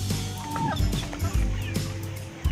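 Rhode Island Red chickens cluck and call in a roomy coop, several overlapping bursts of clucking up close, with no speech.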